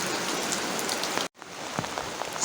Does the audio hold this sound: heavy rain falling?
yes